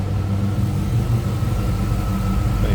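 A 1994 Chevrolet Corvette convertible's 5.7 liter V8 idles smoothly and steadily, a close, low continuous rumble with an even tone and no voices.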